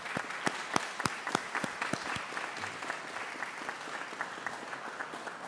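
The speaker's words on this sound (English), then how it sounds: "You deserve a round of applause." Graduation ceremony audience applause on a college campus, with a few sharp, close claps standing out at first before a dense, steady round of clapping settles in.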